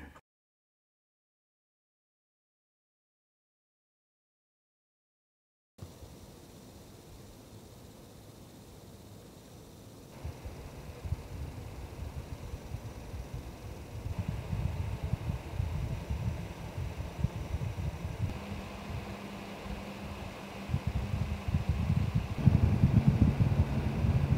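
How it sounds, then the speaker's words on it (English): An Arctic P14 Slim 140mm fan running at low speed with a slight bearing rumble gives a faint, steady whoosh that starts after a silent gap and slowly builds, with a low rumble beneath it and no voices. "there is a tiny little bit of bearing rumble that is noticeable at low RPM simply because there isn't enough noise to hide it"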